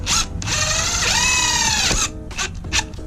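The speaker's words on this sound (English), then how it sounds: "I'm just gonna throw a self-tapper right here, set it, and forget it." A power drill whines as it drives a self-tapping screw into the side skirt of a widebody big-turbo Ford Fiesta ST, a loud steady run of about one and a half seconds followed by a few short bursts.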